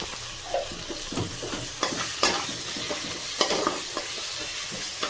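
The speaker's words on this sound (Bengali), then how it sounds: "টমেটোটা একদম গলে গেছে মশলাটা ভালো করে আমি কষে নিলাম" Spices and melted tomato for a bitter gourd and tengra fish curry stir-fried in a pan, giving a continuous close sizzle punctuated by repeated spatula scrapes and knocks.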